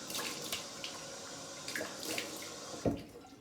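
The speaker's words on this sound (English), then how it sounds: "wash my face off with cold water" Cold tap water runs steadily into a sink as someone washes their face, with splashes and a louder slosh near the end.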